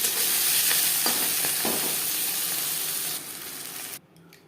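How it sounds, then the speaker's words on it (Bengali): A dried red chilli frying in oil in a kadai wok where fish was just fried, giving a loud, steady sizzle and crackle close by that cuts off abruptly near the end. "মাছ ভেজে নেওয়া কড়াইতে আবারও তেল দিয়েছি দিয়ে দিলাম একটা শুকনো লঙ্কা"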